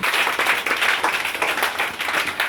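A church congregation claps and applauds in praise during a French-language service, a dense, steady wash of many hands filling the space without a break.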